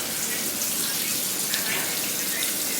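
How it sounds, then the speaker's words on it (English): A sink tap runs steadily, a close, even rush of water pouring without pause. "Open the sink."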